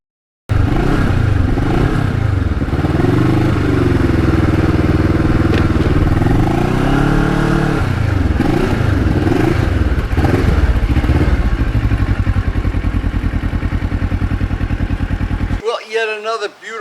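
Kawasaki Ninja motorcycle engine droning loud and close while riding, its pitch rising and falling through gear changes, with wind buffeting throughout and a voice talking briefly at the end.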